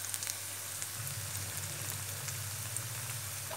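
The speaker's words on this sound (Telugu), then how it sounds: "ఆయిల్ హీట్ అయిన తర్వాత జీలకర్ర ఆవాలు, కొంచెం ఉల్లిపాయలు, ఇప్పుడు కట్ చేసిన ఒక రెండు పచ్చిమిర్చి వేయాలి." Cumin, mustard seeds, onions and green chillies sizzle in hot oil in a pan, a faint, even crackling hiss that continues steadily throughout, with no talking.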